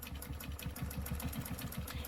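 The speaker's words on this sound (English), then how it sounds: "I'm just going to stitch this." A sewing machine stitches a stencil quilt in a fast, even run of needle strokes, close but quiet, with a steady mechanical hum under the rapid chatter and no voices.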